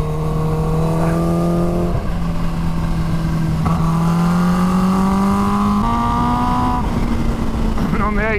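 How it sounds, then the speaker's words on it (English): Triumph 765 Daytona Moto2 motorcycle ridden through tight bends, its engine loud and close, rising in pitch and dropping repeatedly as the rider works through the corners under constant wind rush. "little lightweight Daytona makes short work of the little twisties"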